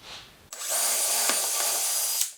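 A power drill bores a bench dog hole through wood with a UJK Parf drill guide, a loud steady whir that starts abruptly, runs for under two seconds with a couple of brief catches, and then stops.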